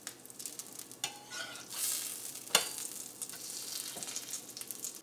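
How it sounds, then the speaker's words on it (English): Bacon fries in a pan on a stovetop with a soft, continuous sizzle, broken by a few sharp clicks and scrapes as the pieces are pressed flat against the pan. "you can flatten little fatty parts against the pan to help speed up the process"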